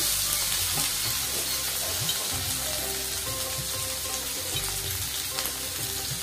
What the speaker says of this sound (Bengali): ভালো করে নাড়িয়ে নেড়িয়ে ভাজতে হবে হালকা করে